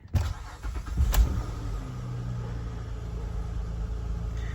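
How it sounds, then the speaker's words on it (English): A Honda Odyssey minivan with its check engine light on starts cold: a brief cranking burst, then the engine catches and settles into a steady, moderately loud idle heard from inside the car. "Can't let you guys miss a cold start. I mean, it's just a little Honda Odyssey"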